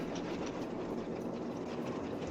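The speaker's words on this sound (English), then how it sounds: "Can't go outside until the train stops." Steady rattling clickety-clack of a train rolling along in the Nancy Drew video game Last Train to Blue Moon Canyon, a continuous close rumble with rhythmic wheel beats throughout.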